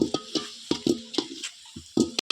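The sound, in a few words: ginger garlic paste being sautéed in a pan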